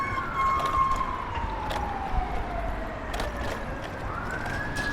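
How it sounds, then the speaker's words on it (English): An ambulance siren approaches from behind on a Washington D.C. street near George Washington University Hospital, its wail sweeping up and down steadily, still moderately distant over low traffic rumble. "We got an ambulance or something coming behind us."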